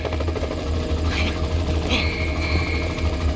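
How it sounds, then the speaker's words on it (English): A helicopter in GTA 5 Online during a casino heist mission, its rotor a steady, close, continuous drone with a thin whine rising partway through, with no voices. "Am I right in thinking Mr. Duggan is being evacuated in a helicopter?"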